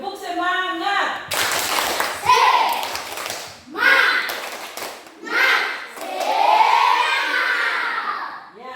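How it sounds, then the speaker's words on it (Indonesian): Schoolchildren in a classroom perform a rhythmic clapping chant, bursts of clapping alternating with shouted chanted lines, loud and close, repeated in several rounds. "Tepuk semangat"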